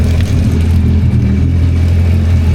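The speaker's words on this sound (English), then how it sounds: "You're flushing the engine, yeah?" A Yamaha FZS jet ski engine runs steadily at a loud, rough, low rumble while being flushed back at the shop after a wash, continuous and unbroken with no voices.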